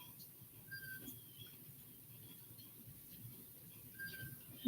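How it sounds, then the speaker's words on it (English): A bird calls outside, a few short whistled chirps spaced apart over steady low background rumble, fairly faint and distant, with no talking. "What the fucking bird is that?"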